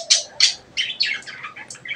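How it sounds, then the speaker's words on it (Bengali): Close, bright chirps from a male budgerigar held in the hand, a quick series of short high calls and tweets repeating steadily with no talking. "এই পাখিটা কিন্তু মেল পাখি,"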